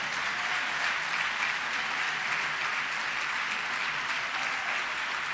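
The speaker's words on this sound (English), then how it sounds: "you can clap for them as they come up" An audience at the Consultation on Conscience 2017 opening session gives sustained applause as staff of the Religious Action Center of Reform Judaism come onto the stage; the clapping is dense and steady throughout, at a moderate level with no talk.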